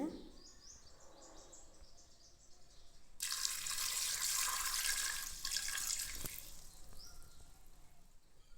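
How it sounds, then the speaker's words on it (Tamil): Water runs steadily into a pressure cooker holding peas for a few seconds, a broad splashing rush that swells, holds, then tapers off, with faint birdsong in the background. "இப்போ கொஞ்சம் தண்ணி விட்டுங்க"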